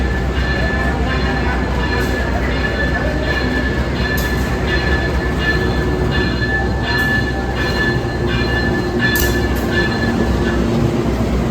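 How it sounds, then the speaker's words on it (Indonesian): The Motis Utara passenger train KA 7706 arriving at a station on track 1, with a loud steady rumble of rolling railcars and periodic wheel clacks and squeals throughout. "Kereta api Motis Utara masuk di jalur 1"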